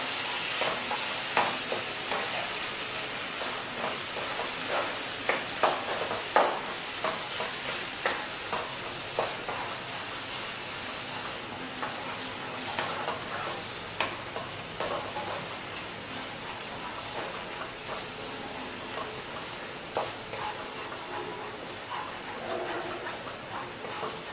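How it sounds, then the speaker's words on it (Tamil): Elephant yam sautéing in oil in a pan for a long stretch, a steady low sizzle with frequent soft clicks and scrapes of stirring, fairly quiet and close, with no one speaking. "நல்லா வதங்கட்டும் நல்லா வதங்க வதங்க இன்னும் கொஞ்சம் கூட நீங்கள் எண்ணெய் இருந்தால் ஊற்றிக்கலாம்"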